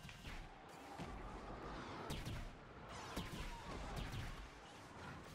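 Gunfire from Imperial forces in a Star Wars Battlefront battle, a steady stream of sharp blaster shots and bursts over a dense, noisy combat din, with several louder cracks standing out and no talking.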